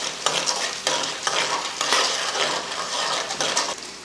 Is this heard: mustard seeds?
yes